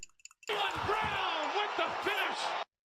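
A producer tag built from a basketball shot recording and a paint can sound effect from Plug and B: a loud, dense burst of crowd-like noise with dull thumping impacts, lasting about two seconds before cutting off abruptly.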